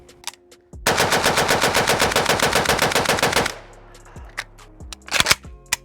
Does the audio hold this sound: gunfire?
yes